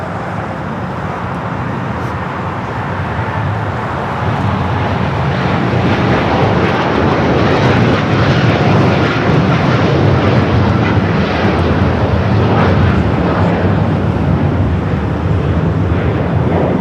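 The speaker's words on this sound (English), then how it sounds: "United Dreamliner now rolling down at 25 right." United Boeing 787-10 Dreamliner bound for Tokyo Haneda rolling for takeoff on runway 25 right at Los Angeles airport, a loud broadband engine roar that swells after a few seconds and holds steady, with no talking.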